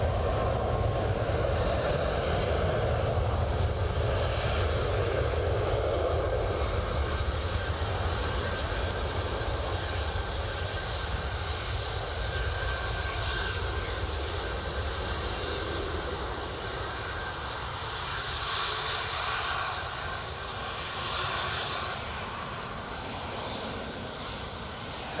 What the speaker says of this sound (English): Hurtling down the track. We've got nose up, wheel up, positive climb